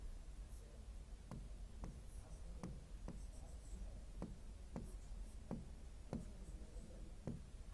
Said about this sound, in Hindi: अरे इसमें मैं नंबर्स लिख देती हूँ